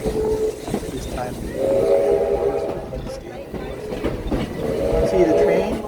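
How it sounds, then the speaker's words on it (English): A train at Heritage Historic Park rumbles past steadily with rattling wheels, while tonal horn-like blasts rise twice over the noise. "see the train?"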